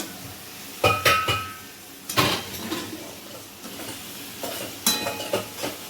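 Spice masala is stirred and fried in a pan with repeated metallic scrapes and clanks of the spoon, in clusters of sharp hits over a soft background sizzle.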